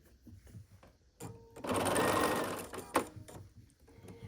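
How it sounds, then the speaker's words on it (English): A sewing machine runs for about a second and a half, sewing the last seams of a quilt block, a close, dense whirring burst framed by quieter handling clicks and rustles before and after. "we can just sew these last 2 seams together"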